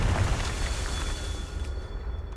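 A Confringo fire spell blasts in Hogwarts Legacy with a loud, rumbling, bass-heavy roar that swells at the start and then slowly tapers off, with no voices.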